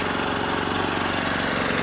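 A Firman 3650 portable generator engine runs outdoors, a loud, steady, buzzing drone with a fast even pulse and no voices.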